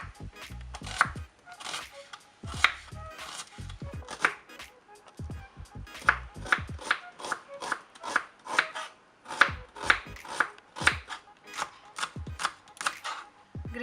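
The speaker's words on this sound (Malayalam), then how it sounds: "ഹാഫ് സ്ലൈസ് ആക്കി തീരെ നൈസായിട്ട് അരിയണം." Onion being finely sliced with a knife on a cutting board: a long run of quick, crisp chopping taps in an uneven rhythm, close and fairly quiet, with no talking.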